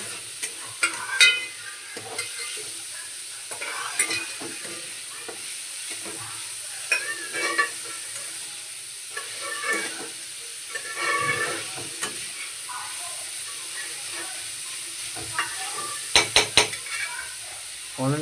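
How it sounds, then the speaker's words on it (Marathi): Pav bhaji mixture frying in a pan with onion and salt, a steady sizzle and hiss under frequent scraping and clattering stirs, with a few sharp metallic knocks near the end. "चांगल्या प्रकारे फ्राय करून घ्यायचं."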